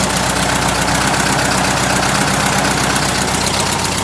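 A freshly built Volkswagen air-cooled engine runs on its first start: a loud, steady, close idle with a continuous rhythmic chugging and buzzing vibration, never easing off.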